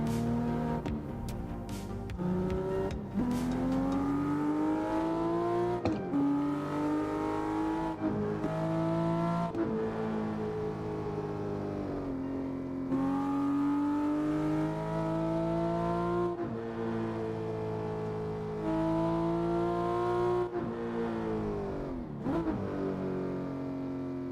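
Engine of a fast car in the Assetto Corsa racing game, steady and loud throughout with rising and falling revs through repeated gear changes, no talking.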